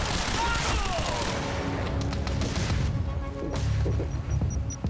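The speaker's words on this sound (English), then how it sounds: "Somebody shooting me from over here?" Gunfire in Quantum Break, a rapid clatter of shots and impacts at mid distance with a voice talking over it.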